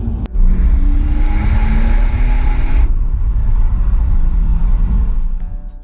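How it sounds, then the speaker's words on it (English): Deep, loud Mitsubishi V6 engine rumble through a sport exhaust, with a rising rev that drops off midway, settling into a steady throaty burble close by. "listen to that magnificent V6 rumble from that sport exhaust"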